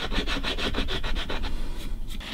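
A sander rubs rhythmically over hardened CA glue on a Gibson banjo fretboard, giving quick repeated scraping strokes that then settle into a steadier grinding hiss.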